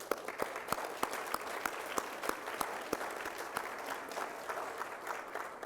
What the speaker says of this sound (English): we want to give the friends and family a round of applause for what you've done